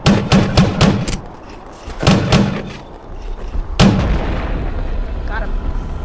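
Grenade launcher firing in the VR game Animal Company: loud, booming blasts in three clusters of rapid shots, each followed by a rumbling tail.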